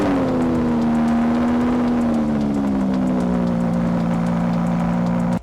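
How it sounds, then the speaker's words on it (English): A sports car engine, an Audi R8 or Porsche 911 GTS, holds a loud, steady high rev with a slight drop in pitch, continuous and close for about five seconds before cutting off abruptly. "You can't have a sports car without it sounding amazing."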